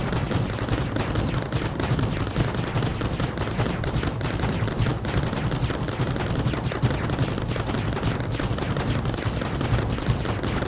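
Continuous gunfire in a factory-building game, a dense, steady rattle of rapid shots that never lets up, loud and close throughout with no pauses.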